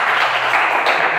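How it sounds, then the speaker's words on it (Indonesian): An audience in a seated seminar or classroom session claps together in a brief, dense burst of applause. "Tepuk tangan untuk semuanya."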